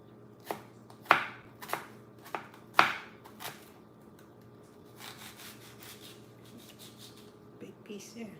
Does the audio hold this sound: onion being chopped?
yes